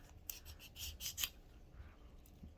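Cleaning rod pushed through the barrel of a Western Six .22LR revolver, a few soft gritty rasping strokes close by, brief bursts over quiet background.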